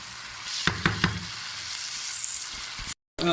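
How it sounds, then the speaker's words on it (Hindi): Chicken and mixed vegetable achari masala frying hard on high flame, a loud close sizzle with three quick spatula knocks early on, then cutting to silence at the end. "चिकन वेजिटेबल अचारी को भूनते हुए तकरीबन 5 मिनट हो गए हैं"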